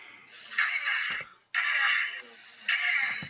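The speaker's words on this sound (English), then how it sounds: "It has Raptors as its notification ringtone." A phone notification ringtone made of raptor sounds plays as three harsh, screeching bursts separated by short gaps, fairly loud, with faint low thumps underneath.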